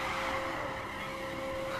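A car drifting in the racing video game The Crew gives a sustained tire squeal over a steady engine drone, loud and continuous without speech.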